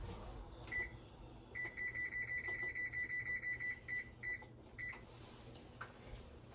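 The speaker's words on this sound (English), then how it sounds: "So the timer just went off. Well, not the timer, but the oven has officially preheated to 425." An oven signals it has finished preheating to 425 degrees with a long run of quick, evenly spaced electronic beeps, a short gap, then a few more, all fairly faint over low kitchen hum.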